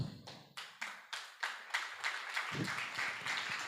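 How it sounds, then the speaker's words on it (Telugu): A church congregation claps in steady unison during a monthly anointing worship service at a prayer hall in Giddalur, with sharp, evenly spaced claps that gradually blur into looser, continuous applause, fairly close and with no talking. "గట్టి చప్పట్లు కూడా దేవుని నామమున గణపరుద్దాం."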